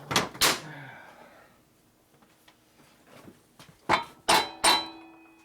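A hammer strikes the metal axle of a Harley evolution motorcycle's belt-drive transmission, several sharp metallic strikes ringing out, two early and three in quick succession near the end, with a quiet stretch between them.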